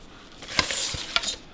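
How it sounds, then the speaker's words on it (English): Bang bang shrimp sizzle steadily in a hot pan while being flipped and stirred, with two sharp utensil clacks against the pan over the continuous frying hiss. "So we're just going to flop them around. Get them all stirred up."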